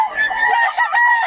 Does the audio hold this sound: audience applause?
no